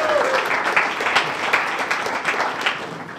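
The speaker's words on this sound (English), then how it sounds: "Give her a round of applause!" Audience applause at a CodeAcross NYC welcome session, with a steady, dense crowd of clapping hands filling the room throughout, fairly loud and close, with a few brief voices underneath.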